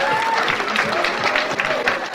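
Crowd applause at a professional billiards match in Amsterdam, dense continuous clapping with some cheering, fairly loud and steady, with faint voices mixed in.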